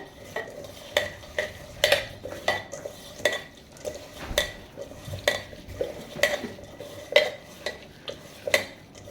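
Dal being mashed and mixed by hand with mustard oil gives a steady run of soft, wet squelching pats and clicks at a regular pulse, close and fairly quiet, with no one talking.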